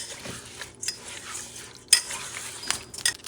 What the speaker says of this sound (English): I'm going to mix it together